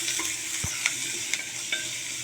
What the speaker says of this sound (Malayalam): ഈ ഉള്ളി നന്നായി ഒന്ന് വഴണ്ട് വരട്ടെ.